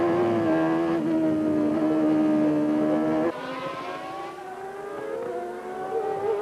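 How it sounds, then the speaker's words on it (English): A 1991 Formula One McLaren racing car screams past, its high engine whine loud and steady before the pitch drops sharply as it goes by and then fades, with other race engines droning in the background. "Here's Berger's McLaren coming past to take 4th place behind Patrese."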